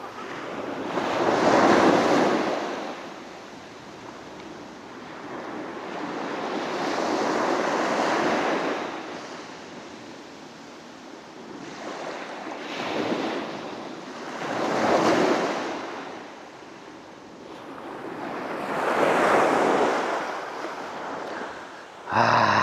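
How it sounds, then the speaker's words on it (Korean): Ocean waves crash and roll onto the shore at Seonnyeo Rock on Yeongjongdo, South Korea, at high tide, in slow, repeating surges over steady wind noise. The swells are loud and broad, and no one speaks. "바닷물이 많이 들어와 가지고 파도 소리가 쿵쿵 울리네요"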